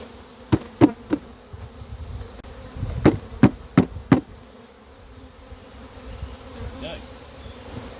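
Honeybees shaken out of a nucleus box into a ten-frame hive drone in a low, steady buzz, broken by several sharp knocks in quick clusters near the start and middle.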